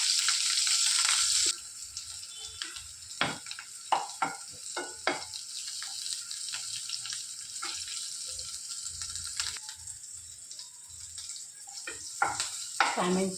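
Prawns fry in a hot pan at home, with a steady sizzle and bursts of stirring scrapes. A loud hiss opens the clip, then the frying settles into quieter crackles under occasional clatter.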